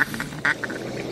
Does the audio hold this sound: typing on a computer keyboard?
no